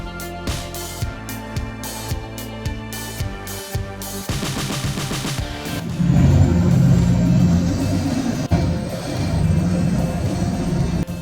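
A Caterpillar D8K dozer pushes a log truck up a steep logging road in the Coos Bay region: rhythmic mechanical knocking gives way to a loud, dense diesel roar and rumble that builds and holds steady.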